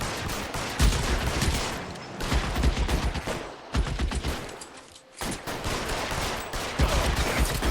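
Gunshots in a gunfight from the video game L.A. Noire: loud, continuous volleys of rapid fire with a few brief gaps, close and dominant throughout.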